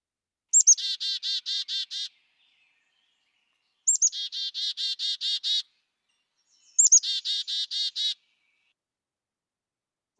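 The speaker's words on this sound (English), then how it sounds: "For the chickadee, it's chickadee-dee-dee." Three separate chickadee calls, each a high sharp note followed by a quick run of buzzy repeated notes, clear and isolated against silence.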